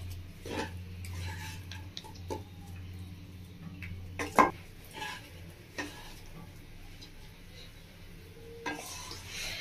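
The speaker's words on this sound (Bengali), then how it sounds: "আমি 2 মিনিট মতো নাড়াচাড়া করে দিচ্ছি" A spatula stirs fried rice in a pan with light, irregular clicks and scrapes against the metal over a faint, continuous sizzle, heard close and without talk.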